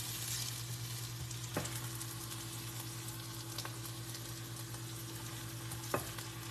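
Onions fry in hot oil, giving a steady close sizzle with a low hum beneath it. Two sharp utensil taps stand out over the frying, and there is no speech.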